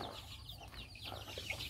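Hens clucking in a backyard coop, including a bad-tempered laying hen, with soft broken clucks and rustling close by and no talk.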